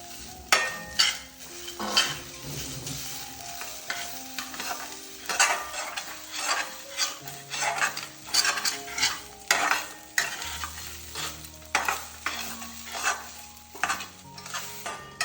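A spoon stirs and scrapes beetroot, sesame seeds, coconut and green chili as they roast in a pan for chutney, with a soft sizzle underneath and a steady, close rhythm of stirring strokes throughout.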